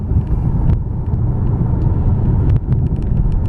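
2014 Lexus LS460 L driving on a California road, a constant low rumble of tyres and road noise inside the cabin, steady and fairly loud.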